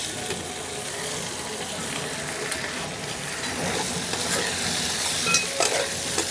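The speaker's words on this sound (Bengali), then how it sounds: "মশলার সঙ্গে সিম আর আলুটাকে খুব সুন্দর করে কষিয়ে নেব" Previously fried flat beans and potatoes are stir-fried in a spice paste for a Bengali curry. A spatula scrapes and stirs steadily against the pan over a continuous close sizzle, with brief faint talk.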